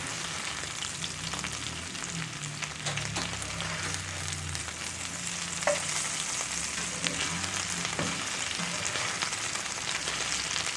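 Okra frying in a cast iron skillet in a home kitchen, a steady loud sizzle and crackle with occasional stirring scrapes and pops running throughout, no talking.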